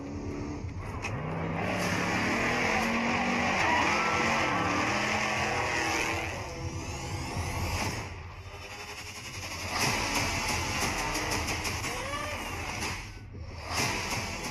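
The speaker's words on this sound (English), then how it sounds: "Ampudia arrives as Andy accelerates out of the pit." A Baja 1000 off-road race truck roars loudly and continuously as it accelerates out of a tight pit area on a desert course, engine revving hard with shifting pitch and a brief dip before surging again.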